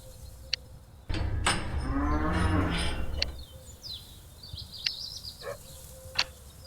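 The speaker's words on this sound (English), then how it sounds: "Then you can go and buy 5 cows." Cattle in the Farm Manager video game moo, with one long, loud low moo followed by fainter calls, over a steady outdoor ambience with brief bird-like chirps and clicks.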